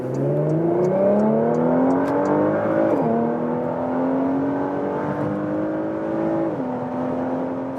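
A Porsche Macan GTS in Sport Plus mode accelerates hard on the Autobahn from a flying start at 30 km/h, its exhaust droning loudly and rising steadily in pitch, with two quick dips at gear shifts.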